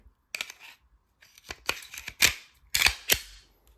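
Sharp metallic clicks and snaps as a Glock 19X pistol's slide and recoil spring assembly are fitted back onto the frame: a handful of close, irregular clicks with short pauses between them and no talking.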